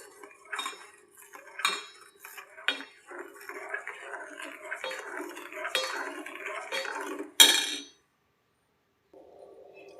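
A spoon stirring milk in a metal pot on a low flame, with a series of close clinks and scrapes against the pot, irregular in rhythm, that stop abruptly before a short near-silent pause.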